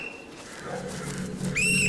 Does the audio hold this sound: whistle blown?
yes